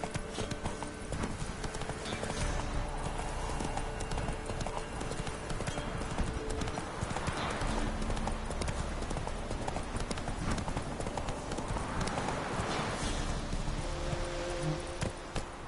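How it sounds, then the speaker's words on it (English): A horse gallops in The Witcher 3 video game, hooves drumming in a fast, continuous clip-clop rhythm, with a rider urging it on between the hoofbeats. "Move it! Whoa there, Roach. Faster."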